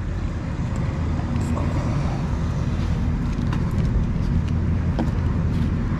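A vehicle hauling a strapped load drives down the road, a steady loud low rumble of engine and tyre noise with wind buffeting throughout, no talking.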